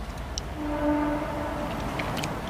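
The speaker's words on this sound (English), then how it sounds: "That's just a train." A train rumbles past with a low steady roar, and a faint horn tone sounds briefly in the middle.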